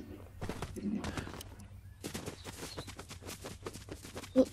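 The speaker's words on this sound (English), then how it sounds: "Shooting over this way." Gunfire in a Fortnite match, a scattered series of sharp shots at moderate distance with quiet gaps between bursts, fairly faint overall.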